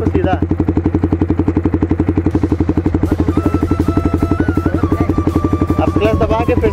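A motorcycle engine chugs in a fast, steady rhythm as a learner rider works the clutch and shifts gears. It stays loud and close, with an instructor's voice talking over it.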